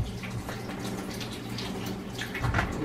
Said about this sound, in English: So I rinse it off with some cold water.